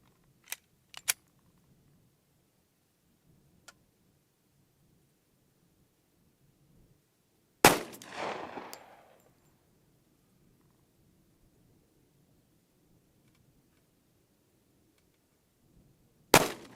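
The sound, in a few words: gunshots from a Glock Model 23 .40 S&W pistol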